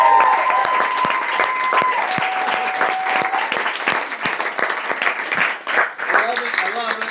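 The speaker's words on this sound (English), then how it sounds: "Can I please have one more round of applause for all of your district" An enthusiastic crowd gives a round of applause, with loud, continuous clapping mixed with high whoops and cheers that rise and fall throughout.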